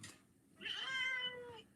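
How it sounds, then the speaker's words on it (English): A cat gives a single drawn-out meow, clear but faint and somewhat distant, in an otherwise quiet room. "Jesus Christ, that cat."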